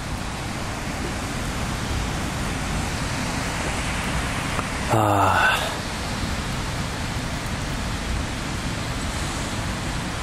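Rain pours onto a building rooftop as a steady, even hiss throughout, with a person's voice briefly speaking over it midway.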